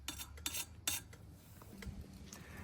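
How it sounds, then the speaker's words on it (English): A blade scrapes melted pant-leg residue off the exhaust pipe of a 2022 FE501S motorcycle, giving faint, close, irregular metallic scrapes and clicks with a few sharper strokes early on and no talking. "after just a couple of minutes of scraping with the blade, we've got the last remnants of pant leg off the pipe"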